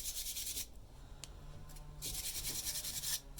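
Small brush scrubbing a layer of rust and residue off metal, two bursts of bright bristly rasping separated by a short pause, close and fairly faint, no voices.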